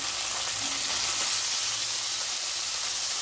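Bata fish frying in hot oil, a steady, loud, close hiss and crackle of sizzling oil that holds evenly throughout.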